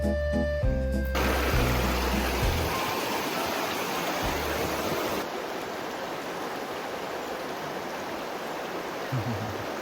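A waterfall in Slovenia pours with a dense, continuous rushing hiss, steady and close, after a brief burst of music at the start.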